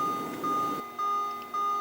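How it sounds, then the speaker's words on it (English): The key-in-ignition warning chime of an American car repeats steadily, a series of clear, close electronic beeps in an even on-off rhythm with a faint engine-bay hum underneath. "Sorry about the beeping, it's one of these American cars"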